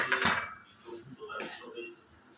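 A cooking pot is lifted off the stove and set down, making a short metallic clatter up close at the start and a fainter knock a second later, with a voice speaking over it.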